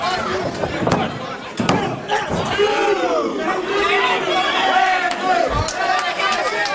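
At a live C4 wrestling show, the crowd chants and cheers loudly, with rising yells and a couple of heavy ring slams punctuating the continuous roar beneath talk.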